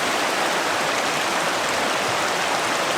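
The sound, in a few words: small waterfall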